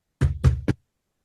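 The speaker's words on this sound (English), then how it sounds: "The seeker knocks on the cabin door." Three firm, close knocks on a cabin door, an audio-drama effect, land in a quick uneven rhythm and are followed by silence.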